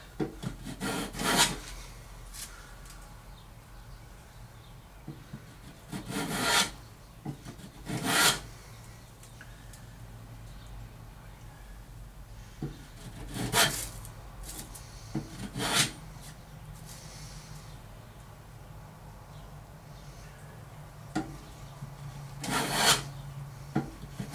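A rasp files away waste wood on a guitar headstock held in a vise, giving repeated close scraping strokes in separate bursts of one to two seconds with quiet pauses between them.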